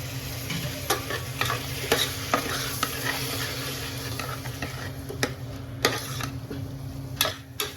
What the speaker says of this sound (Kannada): ನೀವು ನೋಡ್ತಾ ಇರ್ಬೋದು ವೆಜಿಟೇಬಲ್ಸ್ ಎಲ್ಲ ಇವಾಗ ಸ್ವಲ್ಪ ಫ್ರೈ ಆಗಿದಾವೆ